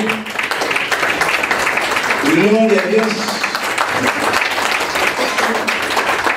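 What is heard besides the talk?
applause from a church congregation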